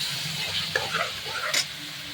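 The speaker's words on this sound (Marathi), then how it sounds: "तेल सुटेपर्यंत आपल्याला हा सर्व मसाला चांगला परतून घ्यायचा." Pav bhaji spice masala with ginger-garlic paste sizzles in hot oil in a pan while being stirred, a steady close frying hiss broken by a few scraping stirs of the spoon.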